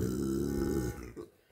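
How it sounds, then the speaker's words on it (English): A single burp, loud and close, with a low harmonic rumble that fades into quieter noise at the end. "Too, I had a burp."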